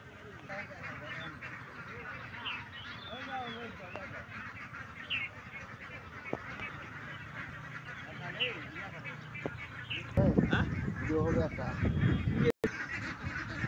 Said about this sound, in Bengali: এখানে অনেকগুলো হাঁস রয়েছে, পার্শ্বে নদী বয়ে গেছে